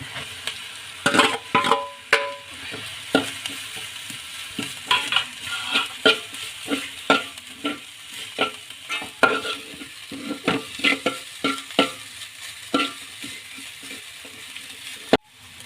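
Grated coconut stirred and fried with onion and green chili in a pan for a drumstick (muringa) leaf thoran: a spatula scrapes and taps the pan in an irregular rhythm over a steady close sizzle, with no talking.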